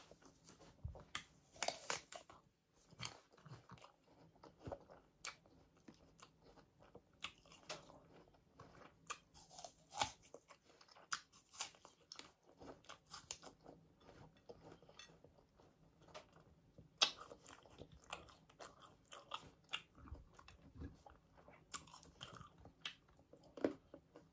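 Crisp, repeated crunching bites and chewing, close and fairly quiet, in an irregular rhythm with no talking.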